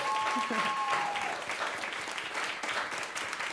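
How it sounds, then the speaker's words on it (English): Audience applause for panelists at a talk, a steady dense wash throughout with faint voices mixed in. "Let's give a round of applause to our panelists."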